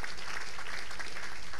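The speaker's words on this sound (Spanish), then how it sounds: "Un aplauso a Cristo por eso." A church congregation gives a brief burst of applause during a service, dense clapping heard close and fairly loud for under two seconds.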